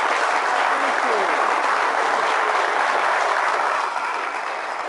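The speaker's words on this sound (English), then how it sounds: "I'd give him a nice round of applause" An audience applauding a hypnotist at a street hypnosis course, a dense, continuous roar of many hands clapping that holds steady for several seconds and fades slightly at the end.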